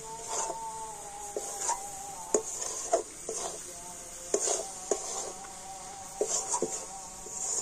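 A spatula scrapes steadily around a pan of jaggery and rice flour mixture over a low flame, with a soft sizzle underneath and repeated sharper clinks against the metal.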